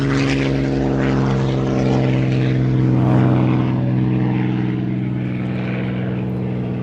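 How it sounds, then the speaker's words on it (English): A Supermarine Spitfire 5C's piston engine drones steadily at Old Warden, a loud, close, continuous propeller roar with a rich low hum that swells slightly midway. "With this wonderful Spitfire 5C"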